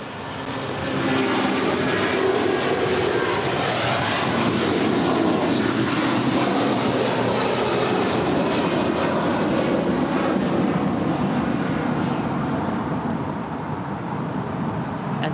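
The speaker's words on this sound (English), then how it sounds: "That is DHL European Air Transport 341 off to Leipzig. It's an A330 freighter." A DHL A330 freighter jet departing LAX for Leipzig makes a long, fairly distant engine roar that swells and then holds steady, alone without talk.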